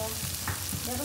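Chicken sautéing for ayam cabe rawit, cooked until dry and lightly browned, with steady close frying sizzle and occasional stirring scrapes in the pan, no talking.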